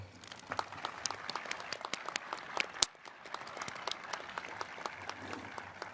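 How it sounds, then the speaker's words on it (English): A commencement ceremony crowd applauds steadily, many hands clapping in a dense, continuous patter that stays fairly even throughout, with a slightly louder burst near the middle. "Please join me in applauding their fine work."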